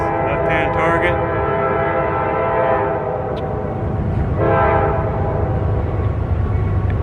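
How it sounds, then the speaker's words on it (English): A train rolls past with its horn sounding in long, loud harmonic blasts, first at the start and again midway, over a steady heavy rumble of wheels and cars close by at an outdoor shooting range. "apparently a train decided it wanted to come by"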